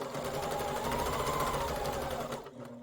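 A sewing machine runs continuously up close, stitching quilt binding with a steady, dense mechanical whir. It stops abruptly near the end, with no talk.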